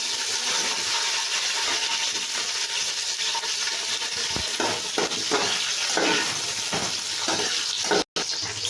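Whole spices, bay leaf and green chillies sizzle steadily in hot oil for a chicken curry, a loud continuous fry broken by a few light scraping stirs near the end.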